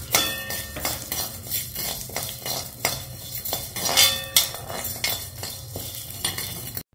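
Urad dal roasting in a pan with a little oil, stirred with a metal spoon that clinks and scrapes steadily against the pan, close and busy, with a faint sizzle underneath.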